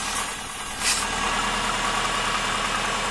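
A Subaru Forester engine idles roughly with a misfire, a steady close rumble with a faint uneven pulse throughout and no talk.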